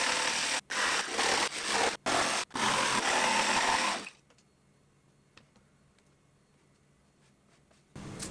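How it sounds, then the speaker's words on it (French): Jigsaw roughly cutting notches in wood, a loud buzzing saw run broken by brief pauses for about four seconds, then near silence before the saw starts again at the end. "ensuite je découpe grossièrement à la scie sauteuse"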